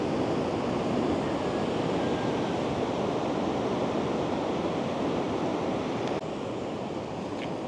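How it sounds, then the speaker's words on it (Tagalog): Big ocean waves roll onto Lamane Beach in a steady, loud wash of surf, with wind buffeting the microphone and no voices. "Oh, laki ng alon."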